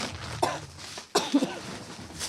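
Two short, sharp coughs about a second apart, close by, with a little throaty breath between them.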